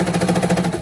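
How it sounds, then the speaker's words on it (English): A serger sewing machine runs at a steady, close, rapid mechanical whir with a fast stitching pulse, sounding alone with no voices. "with just using the serger."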